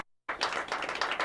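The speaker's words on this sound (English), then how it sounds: "Come on, give John one more round of applause, would you?" A small audience gives a round of applause for a guest named John at a local TV show taping, dense close clapping that starts abruptly after a brief silence and holds steady.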